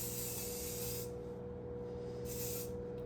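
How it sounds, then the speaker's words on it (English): A spray bottle mists product onto hair from about six inches away, giving two close, hissing bursts separated by a short pause. "take your spray like 6 inches away and just coat your hair"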